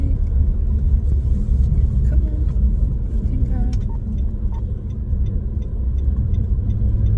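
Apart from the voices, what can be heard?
car driving in busy morning traffic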